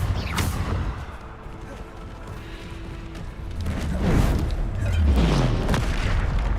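Bombarda spell explosions in Hogwarts Legacy during combat: deep booming blasts and crashing impacts over constant game noise, with heavier low thuds landing in the last few seconds.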